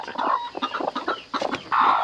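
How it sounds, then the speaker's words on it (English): Broody hens on a homestead cluck and grumble close by in short irregular bursts, several birds overlapping, ending in a longer sustained growling cluck. "just a whole cluster of broody hens there"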